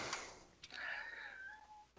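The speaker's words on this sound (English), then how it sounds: "Yes, there's a meow." A cat meows once in a drawn-out, wavering call that sounds fairly faint and close, set against a quiet room.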